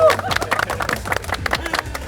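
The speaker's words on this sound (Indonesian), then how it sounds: "Boleh tepuk tangan dulu dong, biar meriah." Crowd clapping at a White Car Indonesia national Halal Bihalal car club gathering in Purwakarta, loose irregular hand claps close by with some crowd chatter mixed in.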